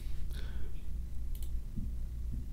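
Computer mouse double-clicking as a folder is opened, a pair of sharp, light clicks near the start and another pair midway, close and fairly faint over a low steady background hum.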